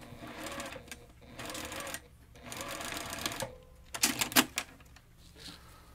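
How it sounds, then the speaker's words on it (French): A sewing machine stitching in bursts, its fast mechanical rattle starting and stopping several times, close and moderately loud, with a few sharper clacks near the end and no talk. "Je l'ai regardé coudre tantôt,"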